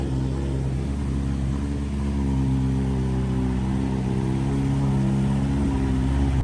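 A Triumph Tiger 800 motorcycle engine running steadily at a constant, mid-pitched drone with a smooth, even hum throughout, no speech.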